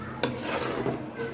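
Boiled chana and masoor dal being stirred into a pot of beef khichuri, giving a sharp scrape, then soft repeated scraping and faint sizzling close by, with no talking.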